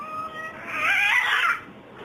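A cat gives one drawn-out, wavering meow that swells in the middle and then fades, heard close and loud with no talking over it.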